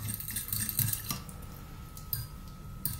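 Spoon clinking against a bowl while garlic, chili and brown sugar are stirred into a Filipino dipping sauce, quiet scattered clinks and scrapes close by with a faint steady hum underneath.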